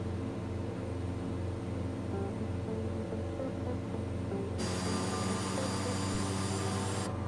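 Simulated Airbus A320 jet engine in Microsoft Flight Simulator 2020, a steady droning roar with a low hum that brightens into a whining hiss midway and holds level throughout.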